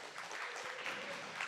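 An audience at an outdoor disability pride festival applauds, a steady wash of clapping held at moderate, fairly distant level for a short stretch.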